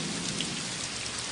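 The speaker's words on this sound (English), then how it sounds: "You smell rain?" Heavy rain pours down steadily in a dense, hissing wash, close and continuous with no voices.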